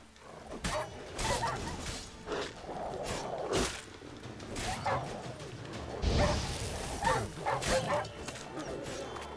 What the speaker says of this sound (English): A lot of rabid dogs.